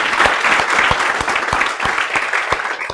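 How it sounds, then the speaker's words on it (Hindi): Students applauding loudly in a law lecture room, vigorous clapping with a few sharp individual claps standing out from the steady crowd noise. "चलो एक बार जोरदार तालियां आप सब लोगों के लिए।"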